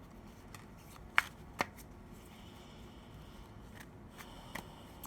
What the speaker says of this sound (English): let's keep pulling cards